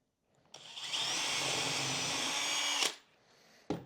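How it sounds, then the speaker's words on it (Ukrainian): Drill bit in a cordless screwdriver drilling in, a sustained whirring whine of about two seconds starting abruptly, then stopping, followed by a quieter pause and a short burst at the end. "ми беремо це сверло, зажимаємо його в шуруповерт, засверлюємось"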